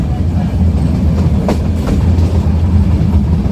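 A passenger train between Veraval and Junagadh rolls through green hills and forest, its steady loud rumble and rhythmic wheel clatter heard from inside the carriage.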